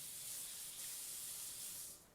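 Tap water runs steadily as a red pepper is rinsed under it, a bright continuous hiss close by that tapers off at the end, with no voices.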